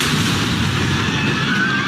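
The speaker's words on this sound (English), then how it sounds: "There was this loud explosion. One quick bang." A dramatized loud explosion striking a plane during an escape from missile range: a sustained, dense, roaring blast with heavy low rumble filling the whole stretch, no voices present.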